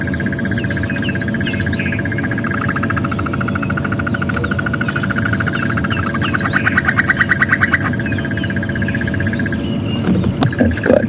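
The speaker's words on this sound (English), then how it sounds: "the crested barbet was a particular favourite. There he's calling." Crested barbet calling on a game reserve safari drive, a long sustained trilling whirr with a rapid pulsing texture, heard close over a low idling vehicle engine rumble and other birds chirping.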